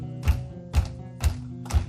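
Four single hand claps in a steady, evenly spaced rhythm, each a sharp close slap, a demonstration of clapping along with a kick drum at a concert in New Albany, Indiana.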